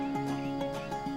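A horse at a stockman training outstation gives a short, wavering whinny that rises and falls in pitch, close by, over a steady hum and faint background noise.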